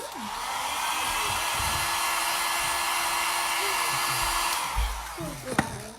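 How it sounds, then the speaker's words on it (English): A handheld hair dryer blows hair dry with a steady, close, loud whoosh for several seconds, then cuts off near the end, followed by a few soft handling clicks. "I'm gonna go ahead and blow dry this."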